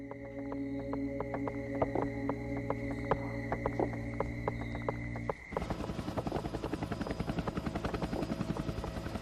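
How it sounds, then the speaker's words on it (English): A military helicopter lifts off on the morning of 9 October in Bolivia, its rotor chopping steadily and loudly throughout, with the blade beat growing sharper and more rhythmic in the second half as the machine climbs away. "Major Niño de Guzman took off in his helicopter to pick up the prisoner, alive."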